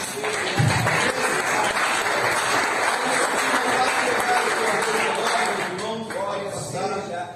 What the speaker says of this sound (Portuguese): E você pode aplaudir o Senhor.